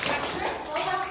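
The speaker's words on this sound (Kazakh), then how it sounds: "Тәуекелге шапалақ" Schoolchildren in a second-grade math class applauding a classmate, a short burst of brisk clapping with children's voices mixed in.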